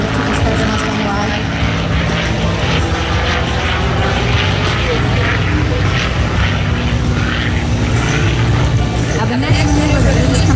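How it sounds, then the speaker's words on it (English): A P-51 Mustang flies at the Sun 'n Fun 2013 airshow, its piston engine and propeller making a loud, steady roar that fills the whole stretch and stays close throughout. "Now, coming from your right, here comes Lee for the inverted"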